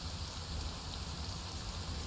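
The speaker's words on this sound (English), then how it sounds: "And the rain as well, it's actually helping with the sound, so they can't hear me as much." Steady rain in the Arma 3 military shooter game, a constant even hiss of falling drops that fills the whole moment with no talk over it.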